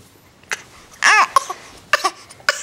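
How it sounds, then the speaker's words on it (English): A baby puts out short, breathy fake coughs mixed with babbly vocal bursts, a few separate sounds spread over a couple of seconds, close and fairly quiet. "instead you're gonna do the fake cough thing?"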